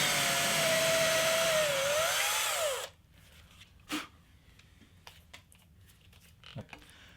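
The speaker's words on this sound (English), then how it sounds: "Bracing with both elbows and operating the drill with my thumb." A power drill with a brad point bit whirs steadily for about three seconds while boring a bridge hole in an electric guitar body, then stops, followed by a few quiet knocks and handling sounds.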